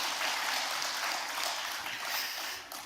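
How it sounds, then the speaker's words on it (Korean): A church congregation applauds the Hosanna choir during a Sunday afternoon service, a dense, steady wash of clapping filling the room for a few seconds before it begins to taper off. "우리 호산나 찬양대 다시 한번 박수 한번 해주시죠"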